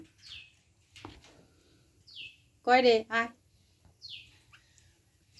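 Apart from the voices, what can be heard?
bulbul bird calling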